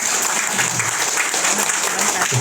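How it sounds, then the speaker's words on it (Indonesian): A crowd at a training session in Makassar applauds Pak Niko, with dense, continuous clapping that stays loud and close throughout, murmuring voices mixed underneath. "Tepuk tangan dong buat Pak Niko"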